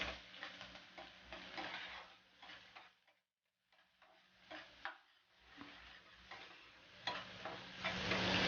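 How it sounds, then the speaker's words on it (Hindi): Garlic and green chilies stirred in a hot frying pan, giving a steady close sizzle with scraping spoon strokes and a brief quiet gap midway, no voices. "इसमें डाल देंगे हम ये लहसुन, डाल देंगे इसमें हरी मिर्च और इसे अच्छी तरह से मिक्स करेंगे"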